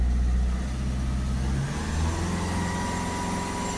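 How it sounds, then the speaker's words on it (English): Ford Focus 1.6 TDCi diesel engine with a fault being revved, a close, steady low engine drone whose pitch shifts and settles as it accelerates, with no speech. "If we accelerate the vehicle up"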